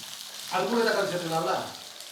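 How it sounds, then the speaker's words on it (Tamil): Onion sizzling as it sautés in a pan with chana dal, urad dal and chilies: a short burst of loud frying that swells suddenly, then fades slightly. "அந்த வெங்காயத்தை சேர்த்துக்கலாம் வெங்காயம் வந்து வதங்கட்டும்"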